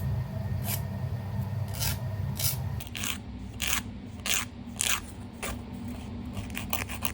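A file rasps over fingernails as they are shaped into ovals, in repeated short scraping strokes close by over a low steady background hum.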